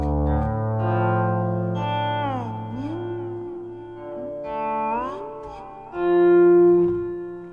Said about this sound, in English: got a few effects going on there, lots of delay and some reverb